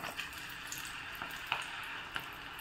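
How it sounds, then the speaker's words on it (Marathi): Chickpeas for chana garlic are dropped a few at a time into hot oil, making a faint, steady sizzle broken by small, soft pops at irregular moments. "हळूहळू तेलात टाकणार आहे मी."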